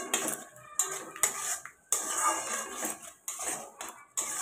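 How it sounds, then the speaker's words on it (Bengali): Fried potatoes stirred in a pan for a vegetarian Bengali aloo bhindi, a metal spoon scraping and clinking against the pan in repeated close strokes with short pauses between them. "তো ভেজে রাখা আলুটা দিয়ে দিলাম, দিয়ে ভালো করে কষাতে হবে।"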